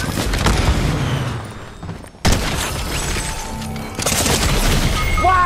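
Loud, dense gunfire and explosive crashes from a shooter video game, firing nearly continuously with one brief drop before resuming.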